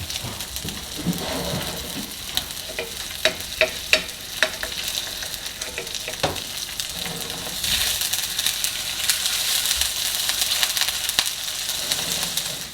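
A tuna melt fries in a pan after being folded and pressed with a spatula, giving a steady close crackling sizzle with scattered sharp pops and ticks that brighten and grow busier toward the end, with no talking.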